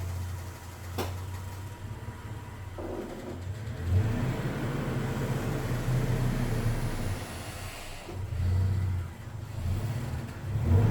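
A car slowly driving onto a garage lift, with a steady low engine hum rising gently in a couple of places as it creeps forward, close and fairly quiet.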